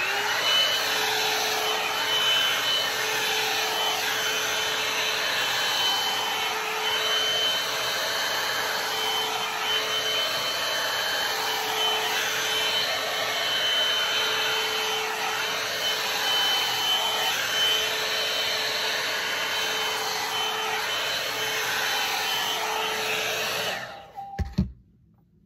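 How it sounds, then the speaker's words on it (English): A hair dryer runs steadily and loudly while blow drying hair, its whirring airflow shifting slightly as it moves, then switches off abruptly near the end. "Start the blow drying."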